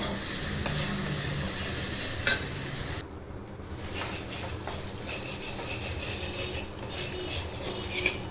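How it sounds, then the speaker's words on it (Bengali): Spices being stirred in a kadai for a soybean and potato curry with turmeric, salt, Kashmiri chilli and garam masala: steady close sizzling under repeated scraping of a spoon against the pan, a few sharper metallic clinks, no talking. "মশলা এটা কড়াইয়ের মধ্যে দিয়ে দেবো করে মশলাটা নেড়ে চেড়ে নেব"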